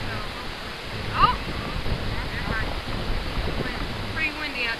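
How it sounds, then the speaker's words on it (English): Wind rushes steadily over the microphone at a fishing pond, a moderate low rumble with faint birdsong and brief voices mixed in. "pretty windy out today"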